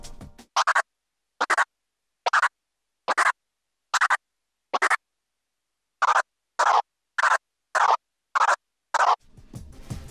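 Crab scratches on a DJ controller's jog wheel, worked in forward and reverse movements: a run of about thirteen short, sharp scratch bursts in small clusters, separated by silence, loud and close.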